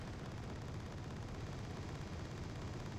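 Rapid 20 to 35mm autocannon fire from anti-air vehicles in Wargame: Red Dragon, a steady dense rattle of quick shots blending into a continuous noisy roar, fairly faint and unbroken.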